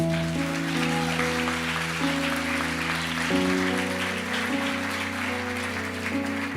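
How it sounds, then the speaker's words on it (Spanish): A church congregation applauds, a dense, even wash of clapping that continues under sustained keyboard or organ chords. "Yo quiero pedirle a la iglesia que le deje un aplauso al Señor"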